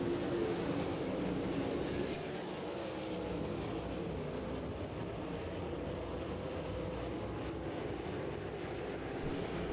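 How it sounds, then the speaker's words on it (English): Winged 360 sprint cars racing at Lake Ozark Speedway, a continuous loud roar of engines from a distance filling the whole clip, with no audible commentary. "Belm racing his way alongside that 37 of Howard."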